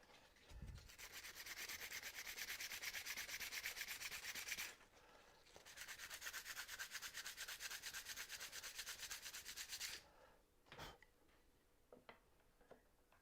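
Hand sanding of a wooden dovetail keepsake box: two long stretches of quick, even back-and-forth rasping strokes separated by a short pause, close and fairly quiet, then a few scattered taps and handling knocks.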